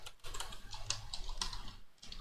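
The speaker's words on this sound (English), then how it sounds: "I'm going to type in the email address" Rapid keystrokes on a computer keyboard as an email address is typed into a text box in Microsoft Word, a steady close clatter of light clicks with small pauses, no talking.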